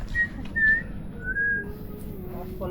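A person whistles a few short, bright tones, rising and falling, over a low background rumble, with a pause between each burst.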